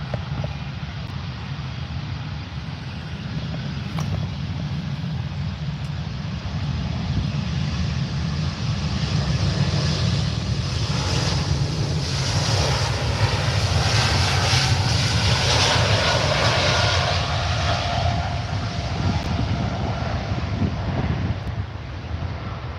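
A pair of Boeing 747 "Wookiee" jets depart Manchester Airport, with a sustained, loud engine roar and heavy low rumble that swells toward the middle of the pass, mixed with wind buffeting on the microphone.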